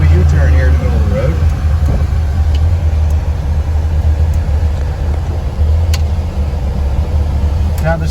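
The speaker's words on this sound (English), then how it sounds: "I'm going to do a U-turn here in the middle of the road." A 1966 Chevrolet Nova restomod rumbles along as it downshifts into second and swings through a U-turn in the middle of the road, its engine a steady, loud, close low drone.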